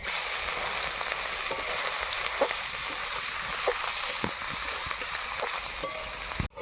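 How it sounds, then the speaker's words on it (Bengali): Onion and spices, with whole cumin, bay leaf and dried chilli, sizzle in oil left over from frying fish, giving a steady close crackle with occasional sharp pops and a stirring scrape near the end. "ফোড়নটা আমি কিন্তু মাছ ভাজা তেলেই দিচ্ছি"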